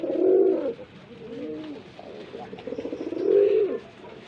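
Pigeons on a pigeon farm coo in a few repeated, throaty bursts up close, each rolling coo rising and falling, with soft rustling between.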